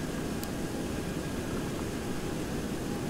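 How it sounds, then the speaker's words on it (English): A Boeing 727 climbing just after takeoff in a flight simulator, its jet engines a steady, dense broadband roar, constant and alone with no talking. "Don't think I got the engine sounds up too loud for you guys"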